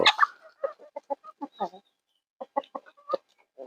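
Chickens cluck in a steady series of short, close calls, with a brief pause midway before the clucking resumes.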